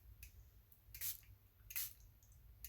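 Water squeezed from a spray bottle onto a wet watercolor landscape painting, heard as a few soft, close squirting spritzes with quiet pauses between them.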